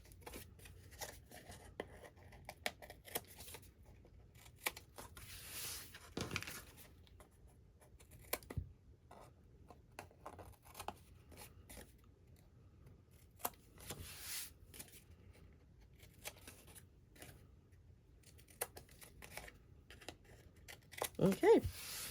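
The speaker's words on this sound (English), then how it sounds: "So I'm just going to angle cut my tabs." Scissors snip paper tabs at an angle for a handmade mini album, producing faint, scattered short cuts and paper rustles at close range, with quiet handling noise between them.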